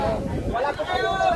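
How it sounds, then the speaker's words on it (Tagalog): Strong outdoor wind buffeting a microphone in a steady, loud, roaring rush with no break across the short stretch. "Lakas pa ng hangin dito."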